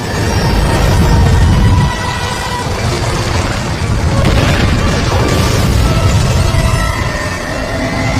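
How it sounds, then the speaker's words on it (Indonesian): A rocket bursts apart after its fuel tank is torn open in the film Venom, giving a loud, sustained rumbling explosion with deep booming low end and churning debris noise that rolls on for several seconds without any voices. "Venom merobek tangki bahan bakar roket, sehingga roket pun meledak dengan Riot di dalamnya"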